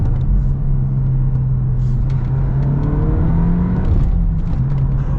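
A 2023 VW Golf R with a manual gearbox pulls hard in Nürburgring mode, its turbocharged engine droning loud and close inside the cabin, the pitch climbing steadily before dipping briefly at a shift and rising again.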